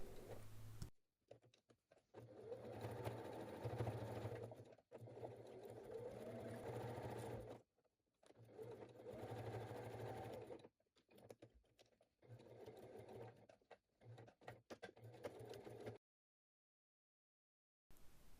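Sewing machine stitching the side seams of a fabric bag, running in several steady bursts separated by short pauses, with a brief silence near the end; close and moderately loud, with no talking.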